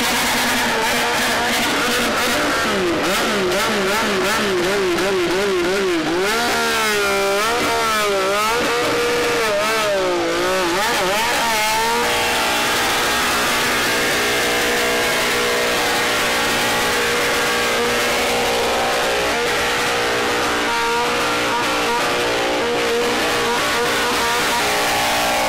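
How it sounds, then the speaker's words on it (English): A tuned, dyno-tested motorcycle of about 230 horsepower with a very loud exhaust, revving hard in repeated rising and falling bursts before settling into a steady, loud, close idle. "Because it's tuned up and it has a very loud exhaust."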